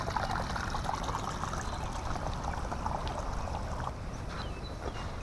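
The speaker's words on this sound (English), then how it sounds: "even a little trickle of water runoff" Steady trickle of rainwater runoff at an abandoned city park river walk, a continuous close wash of running water that fills the whole stretch without any break, with no voices heard.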